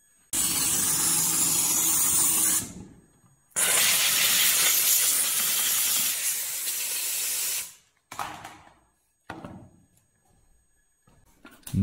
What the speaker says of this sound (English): the steam cleaner is the best for that